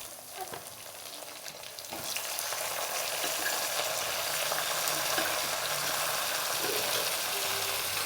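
Meat tipped into sautéed onions in a pan for a thaali salna, the gentle frying swelling after about two seconds into a loud, continuous sizzle with light stirring noises and faint talk beneath.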